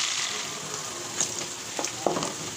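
Garlic and chili frying in hot oil for a shol fish and potato bhuna give a steady, close sizzle with a few small pops and crackles scattered through it, and no one speaks.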